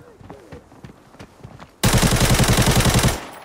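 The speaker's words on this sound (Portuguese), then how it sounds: "É, é, é dois tirinhos e você matou o cara, irmão" A realistic mobile shooter game plays softer, scattered sounds before a sudden loud burst of rapid automatic gunfire that lasts just over a second, then cuts off.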